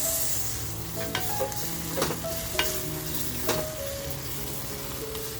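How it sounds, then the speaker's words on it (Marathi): Cut potato pieces fry over a full flame in a pan, a steady bed of sizzling punctuated by a few sharp clinks of a spoon stirring, close and even throughout. "जो बटाटा कापून घेतला आहे तो बटाटा आपण आता छान याच्यामध्ये फ्राय करून घेणार आहोत अगोदर"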